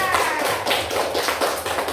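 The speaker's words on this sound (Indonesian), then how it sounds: "kasih tepuk tangan dulu ya, teman." Classmates clapping hands in a classroom after a group presentation, a quick, fairly dense patter of claps lasting a couple of seconds, moderately near.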